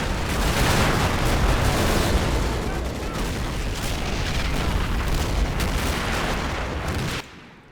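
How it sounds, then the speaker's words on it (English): A Katyusha rocket barrage in Men of War: Assault Squad 2 rumbles as a dense, continuous roll of loud booms and blasts for several seconds, then cuts off abruptly, with a voice speaking over it. "4 men dead from the Katyusha barrage"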